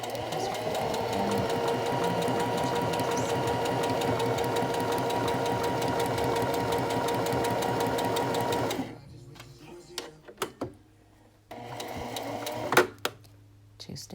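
A sewing machine stitches fabric in a fast, steady mechanical whir for about nine seconds, then stops, leaving quiet clicks and short bursts of handling noise, recorded close, with a voice speaking over it.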